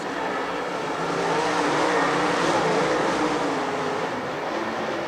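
Dirt track race cars, including the 72 car and an XR1, roar around Lernerville Speedway in a steady, dense engine drone that stays loud and continuous throughout, with no voices.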